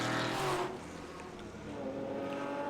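A Group A/C tribute racing car at the Winton Festival of Speed blasts past at speed, a loud engine roar that peaks briefly then fades into a steadier, quieter drone.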